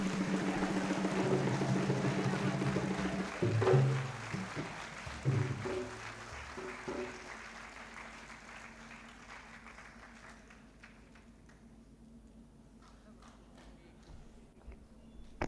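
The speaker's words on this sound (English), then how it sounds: "it's okay for you to continue clapping and giving the standing ovation" Audience at a memorial lecture giving a standing ovation, dense sustained clapping that swells, then gradually thins and fades to scattered claps and quiet.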